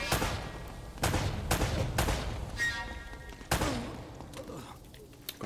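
Pistol shots in Uncharted: Drake's Fortune, with five or six loud, close reports spaced roughly half a second to a second apart, each with a short echoing tail over steady game background noise.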